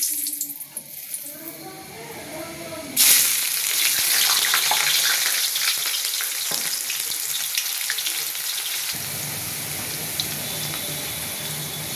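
Bay leaves hit hot oil for a vegetarian Bengali dish, a sudden loud sizzle that bursts in after a quieter start and keeps hissing and crackling steadily to the end.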